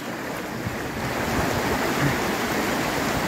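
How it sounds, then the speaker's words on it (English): Floodwater surges through a flooded street in Phuket Town, a dense, steady rushing wash close to the microphone with some wind buffeting and no voices. "water's pushing me that way and I'm not making much forward progress"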